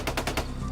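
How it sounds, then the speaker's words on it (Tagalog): Rapid gunfire in a Filipino aswang horror audio drama, about four sharp shots in quick succession over a low background rumble. "Putok ng baril yun"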